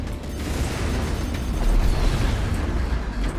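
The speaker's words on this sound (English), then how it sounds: "let me try and destroy some of these fighters since I got seeker missiles" Seeker missiles strike enemy fighters in the space combat game Strike Suit Zero, a dense, continuous roar of blasts and mechanical rumble that swells slightly midway and holds steady, loud and close, with no talking.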